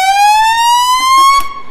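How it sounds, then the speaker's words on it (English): A charity rally car fitted with an ambulance siren sounds one loud, close, rising electronic wail that climbs steadily in pitch for nearly two seconds and then cuts off abruptly. "So this is the siren, and this is the lights."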